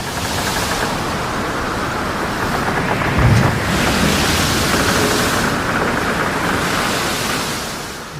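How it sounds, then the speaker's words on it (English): Powerful sea waves on Læsø island wash in as a loud, continuous surf roar, with wind buffeting the microphone throughout and a brief heavier surge near the middle. "The power of the sea is so strong."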